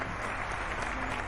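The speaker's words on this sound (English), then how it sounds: "you have to have an applause for this one." Steady applause from a small crowd, brief and moderately loud, with no talking over it.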